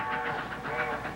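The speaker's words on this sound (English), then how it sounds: "It's Grandpa's train." A passenger train passing and sounding its whistle signal, a steady sustained whistle tone over a continuous rumbling rail noise, fairly close and unbroken through the short stretch.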